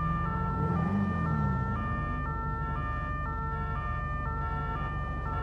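Ambulance siren in the video game GTA 5, a steady two-tone wail cycling evenly over a low engine rumble, moderately loud and continuous with no speech.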